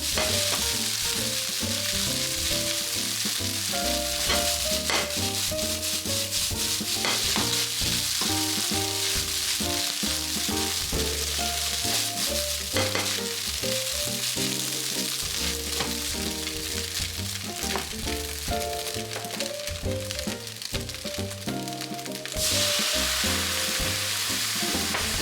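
Fried rice with green onions sizzling and crackling steadily in a hot pan, a continuous close, loud frying hiss with occasional stirring scrapes and clatter throughout, no voices.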